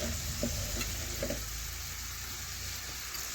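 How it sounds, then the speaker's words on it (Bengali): Chopped tomato frying with mustard paste, salt and a splash of water for a Bengali fish curry, a soft, continuous sizzle with a few light stirring knocks early on; fairly quiet and without talk. "এখন নাড়াচাড়া করে একটু টমেটো গলিয়ে নেওয়া পর্যন্ত একটু ভেজে নিচ্ছি"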